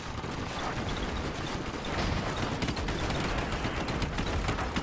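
A Gatling gun aboard an airship fires in the game Airships: Conquer the Skies, a dense unbroken rattle of rapid shots mixed with crackling impacts, loud and sustained throughout.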